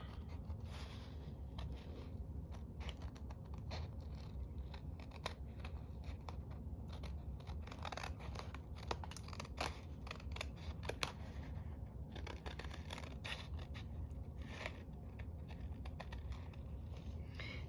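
Scissors cutting something out, a quiet run of repeated small snips and rustles spread through the whole stretch, close by, with no talking.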